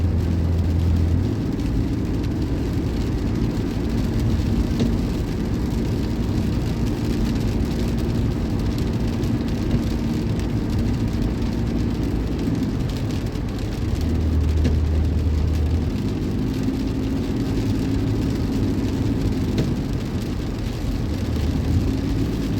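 Steady rain patters on a moving car, blending with a constant low road rumble and engine drone throughout, with no voices.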